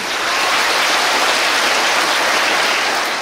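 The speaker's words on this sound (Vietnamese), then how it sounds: "cho tràng pháo tay" Dense, steady applause from an audience at a talk on raising children, a continuous wash of many hands clapping at full volume for the whole stretch with no voices over it.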